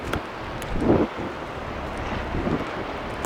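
Gusty wind buffets the microphone on the open deck of a small cruise boat in Norway, a steady low rumble with a couple of stronger swells, no talking.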